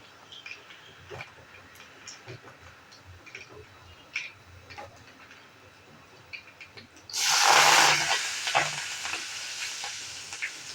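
Spice tempering for masoor rice bursts into a loud, crackling sizzle partway through, close by, after a stretch of quiet clinks and kitchen noise, then settles into a steady, softer fry.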